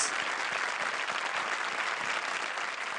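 Studio audience applauding on a Hindi television comedy show, dense continuous clapping at an even, fairly loud level from start to finish, heard on its own without talk.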